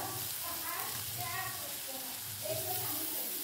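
Fried potato and pointed gourd being sautéed in a pan at home, a steady low sizzle with soft scraping stirs running continuously, close and moderately quiet.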